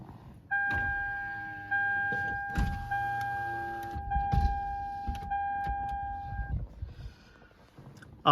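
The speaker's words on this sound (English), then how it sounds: "Let's roll down the window because it might get hot." Power window on a 2010 Toyota Camry rolling down, a steady electric motor whine running for several seconds between clicks and thumps inside the car.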